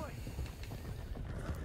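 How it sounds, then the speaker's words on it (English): Horse hooves clip-clop in Red Dead Redemption 2 while stolen horses, including stallions, are driven toward Clemens Cove, a steady trotting rhythm running through the whole short stretch amid game noise. "let's get these horses to Clemens Cove quick before we run into any more trouble"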